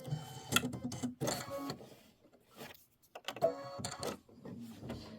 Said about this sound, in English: So this is stitching out the round window satin outline and the lower leaves fill.